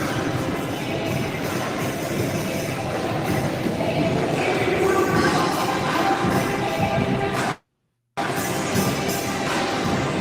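Inside a large train station, the steady rumble of rail cars rolls through the hall with faint clatter and wheel noise, continuous and fairly loud before a brief total dropout near the end.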